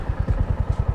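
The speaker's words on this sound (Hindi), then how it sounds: "काफ़ी ज़्यादा स्मूथ एंड काफ़ी ज़्यादा अच्छी साउंड लग रही है मेरे को इस बाइक के अंदर यार" A Royal Enfield Hunter 350 motorcycle engine thumps out a quick, even pulse during a ride, loud and close, with no talking.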